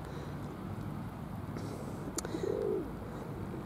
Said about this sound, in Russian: Ведь даже голуби заигрывают.